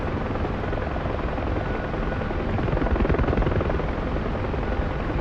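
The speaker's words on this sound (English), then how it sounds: "And I'm in the UH-1 Huey, my favorite plane, my favorite chopper rather." A UH-1 Huey helicopter flying nose-in hover turns around a lighthouse, its dense, steady rotor and turbine roar loud and close throughout with a slight swell near the middle.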